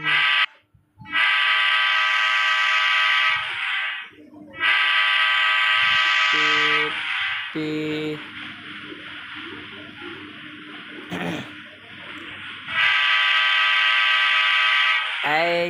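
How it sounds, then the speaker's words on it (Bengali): A train in a block video game gives long, loud electronic horn blasts, a bright buzzy tone that sounds, pauses and returns, with a rumbling run and short lower tones in between; a voice talks during the quieter gaps. "আমি আপনাদেরকে দেখাই ট্রেন কিভাবে চলে।"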